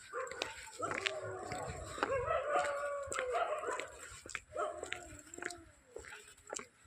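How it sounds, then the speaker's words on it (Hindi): Dogs bark and yelp repeatedly at a distance, several overlapping, with a howling tone at times in a quiet outdoor setting. "और कुत्ता चारों तरफ भौंक रहा है।"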